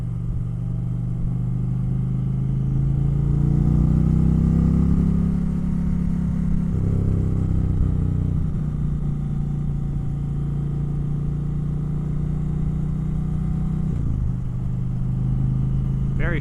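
A 2025 Indian Chieftain Powerplus Dark Horse motorcycle engine rumbles steadily while being ridden, a deep continuous drone with gear shifts and mild rises in revs, loud and close, as a person talks over it.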